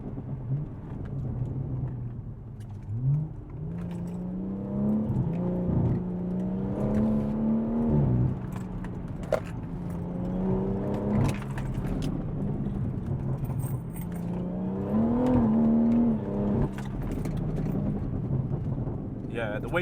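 A BMW M140i hatchback accelerates hard between corners, its engine note rising and falling in repeated pulls under the continuous rumble of road and cabin noise, with a person talking from inside the car throughout.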